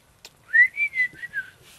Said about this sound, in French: je siffle et puis je reviens